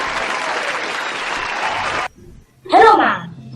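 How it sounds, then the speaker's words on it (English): Audience applause welcoming a guest scientist at a school's virtual annual concert: about two seconds of steady, full clapping that cuts off sharply, followed by a brief pause and then a spoken voice. "Let's give her a round of applause."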